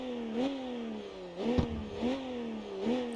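A BMW E92 M3 convertible's engine revving in the CarX Street racing game, rising and falling pitch in repeated swells over a steady drone, moderately loud and close, with no talking.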